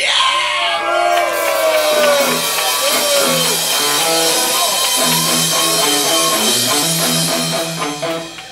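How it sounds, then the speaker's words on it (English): A concert audience at The Brook gives a massive cheer for the guest bass player, with loud yells and whoops mixed into the crowd's roar while the band's bass notes pulse underneath. "you can all do a massive cheer"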